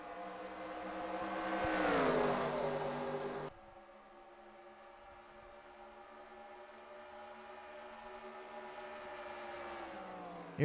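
Several NASCAR stock cars in NASCAR Racing 2003 run nose to tail around Chicagoland, a loud rising engine whine peaking early, then a steadier, quieter drone of engines continuing to the end.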